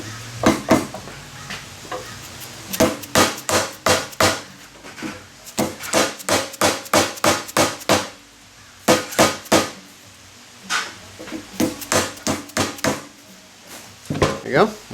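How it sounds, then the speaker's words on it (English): Soft-faced hammer tapping a part into a Bilstein 7100 remote reservoir shock during a rebuild, with repeated sharp, close blows in quick bursts separated by short pauses, and a voice talking briefly. "Take your soft-faced hammer, eat it the rest of the way and be angry at it."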